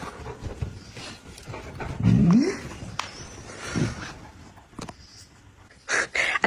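Two dogs playing with each other in the morning, giving soft whimpers, panting and scuffling sounds mixed with a few brief yips, close by. A person talks softly at intervals between the sounds.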